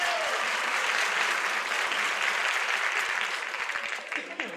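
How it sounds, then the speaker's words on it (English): A studio audience bursts into sustained, dense applause that fills the room, steady at first and then thinning and tapering toward the end, with no talk over it. "How vulgar of you to applaud her nose blowing."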